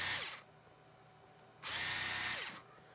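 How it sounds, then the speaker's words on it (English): Power drill fitted with a 90 degree countersink bit cutting a hole during a battery mount install on an RC truck, two short high-pitched whining bursts separated by a quiet pause, close and alone. "put it in your drill like this, and you drill it countersunk 90 degrees to the hole"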